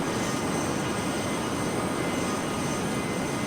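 A Learjet jet in flight in the Air Hauler flight simulator, heard as a steady, even broadband engine roar that holds constant without a break and with no talking.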